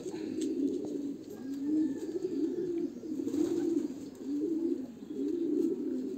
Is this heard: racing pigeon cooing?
yes